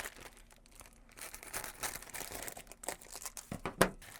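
Paper being folded and creased by hand for a homemade Harry Potter exploding bon-bon, soft close crinkling and rustling in irregular bursts with one sharper crackle near the end.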